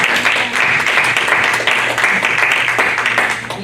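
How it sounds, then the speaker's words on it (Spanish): A church congregation applauds at a preaching service in a loud, sustained wave of clapping, with a few voices calling out underneath before the clapping begins to thin at the end. "Desen un aplauso a ustedes."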